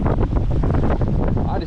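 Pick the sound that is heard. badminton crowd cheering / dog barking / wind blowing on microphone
wind blowing on microphone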